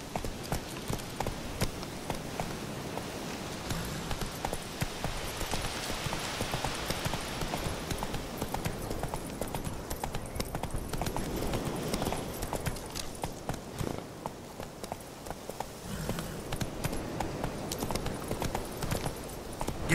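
Horse hooves clip-clop in a steady galloping rhythm throughout, close and continuous, from a mount in The Witcher 3 video game, with a faint whinny-like tone partway through and no talk.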